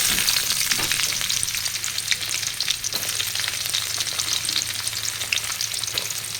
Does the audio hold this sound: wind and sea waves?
no